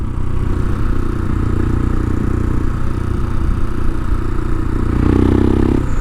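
A Royal Enfield Himalayan fitted with a 462 big bore kit rides along, its engine a loud, steady low drone that holds close and continuous throughout, swelling slightly near the end.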